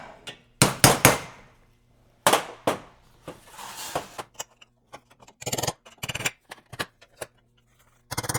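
Hammer blows flatten the edge of a stainless steel turbo heat shield, a series of sharp metallic strikes in irregular clusters, some loud and ringing, others lighter taps, with no talking.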